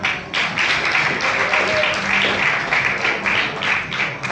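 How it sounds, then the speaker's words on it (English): Audience applause at a live event, a dense steady patter of many hands clapping throughout, fairly close and loud with no speech over it. "Round of applause to them."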